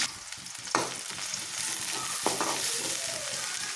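Onions hitting hot oil in a kadai with already cooked chicken, a steady close sizzle with two sharp stirring scrapes, no voices.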